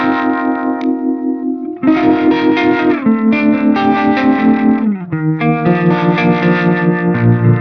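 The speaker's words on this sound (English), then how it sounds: "the harmonic trem is a really interesting one, and this is a stereo in, stereo out block" Electric guitar chords played through an Axe-Fx III harmonic tremolo at stock settings, a steady pulsing wobble with a chorus-like shimmer and slight grit, loud and continuous with several chord changes and no talking.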